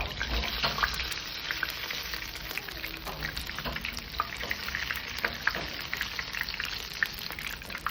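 Batter-dipped chicken roll snacks fry in hot oil with a steady, crackling sizzle and scattered pops, moderately close and without speech.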